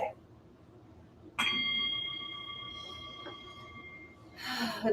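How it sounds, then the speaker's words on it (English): A single meditation chime is struck once, ringing clearly with a long sustained tone that slowly fades over a few seconds in a quiet room, with a brief breath or voice at the edges. "With the sound of that chime,"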